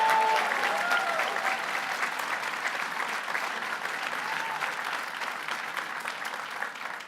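Sustained crowd applause at a hotel and motel trades union rally, many hands clapping steadily for several seconds and slowly tapering, a few faint voices mixed in at the start.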